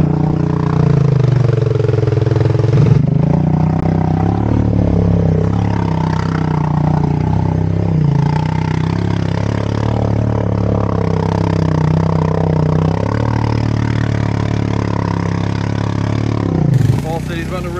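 A Honda 300 ATV engine runs steadily on a beach, loud and close, with a rough idling drone and slight rises in revs and a voice speaking over it.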